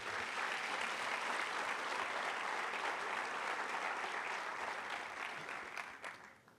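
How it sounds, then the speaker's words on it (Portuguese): A church congregation applauds during a sermon, a full, sustained wash of clapping from many hands that holds steady before thinning out at the end, heard at a moderate distance. "Dê um aplauso ao Senhor Jesus."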